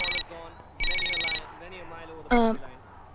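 A telephone rings in distinct electronic bursts, two long trills with a gap between them, loud and close, followed by a short voiced sound, in an indoor domestic comedy scene.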